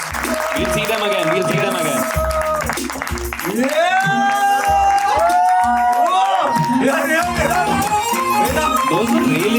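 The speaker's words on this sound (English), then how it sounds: "can we have a round of applause for the best friends" A studio show audience claps and cheers loudly, with whoops and shouting voices layered over steady applause throughout.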